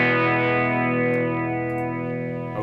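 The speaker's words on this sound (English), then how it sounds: "Let's get the spinning speaker on." Electric guitar played through a Danelectro Leslie-style spinning speaker effect pedal, a sustained distorted chord ringing out with a swirling, warbling modulation and slowly fading over a few seconds, with no talking.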